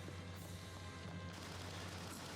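Sustained machine gun fire from the anime Fullmetal Alchemist: Brotherhood rattles as a dense, continuous burst, loud and unbroken for the whole short stretch with no talking.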